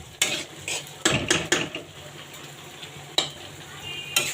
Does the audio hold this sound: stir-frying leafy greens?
yes